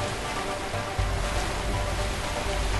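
Rushing waterfall water roars continuously in the video game A Way Out, a loud, broad wash that swells slightly about a second in, heard alone without speech.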